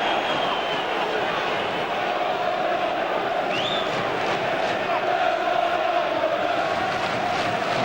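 A dense football crowd roars steadily at a Bolton home match, with singing and cheering sustained loud and continuous throughout, with no individual voices standing out.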